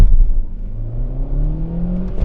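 A Kia Rio 1.2 MPi with manual gearbox pulls away briskly from a standstill in first gear, its small four-cylinder engine rising steadily in pitch as revs climb, loud and close from inside the car.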